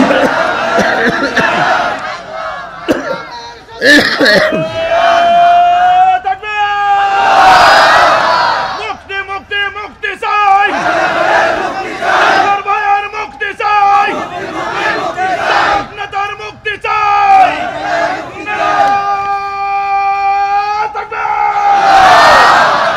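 Large crowd at an Islamic religious gathering roars a takbir chant in unison, answering a preacher's call with repeated loud collective shouts that swell and fade in waves.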